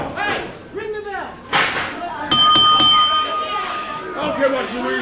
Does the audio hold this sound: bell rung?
yes